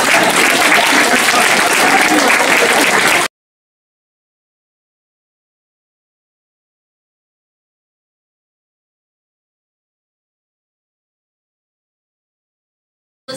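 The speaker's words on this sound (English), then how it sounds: "give a little round of applause" An audience at a discussion gives a short burst of dense applause lasting about three seconds, then it stops abruptly and silence follows.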